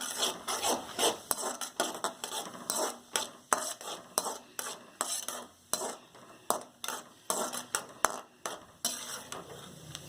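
Cashew nuts fry in a pan for coconut laddu, with a soft sizzle under repeated scraping strokes as a utensil stirs them. The stirring has a steady rhythm and stays fairly quiet.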